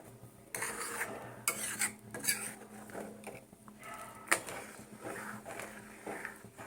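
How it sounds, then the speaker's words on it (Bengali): Payesh (rice pudding) sweetened with batasa is stirred steadily in a pot on the stove, with close, repeated scraping and soft clinks of a spoon against the pot. No one talks. "কিন্তু কন্টিনিউ এইভাবে নাড়তে হয়, তাহলে ঘন হয়"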